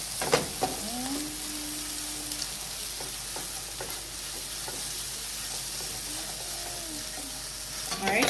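Vegetable fried rice stirred and frying in a pan with a little black pepper, a steady close sizzle with occasional scrapes and clinks of the spoon against the pan.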